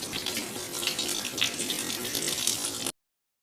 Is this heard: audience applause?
no